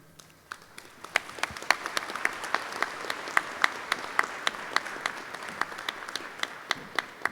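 Audience applause at a Rocky Vista University commencement ceremony, steady clapping from a crowd that swells after the first second and holds, with a few louder individual claps standing out near the microphone.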